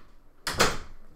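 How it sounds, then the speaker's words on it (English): A door in a classroom or home study shuts once with a short, fairly loud thump and a brief rattle, standing alone against a quiet room. "can you close the door, please?"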